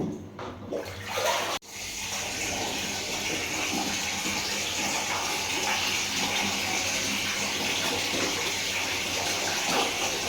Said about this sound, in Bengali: এই পাশে পানি আসতেছে